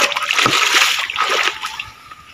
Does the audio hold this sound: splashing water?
yes